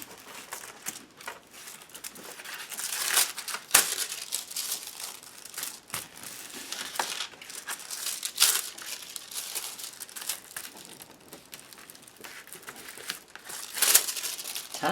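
A sheet of transfer foil is handled and crumpled during watercolor paper inking, with irregular crinkling bursts that swell loud around a few moments, close by, with no voices.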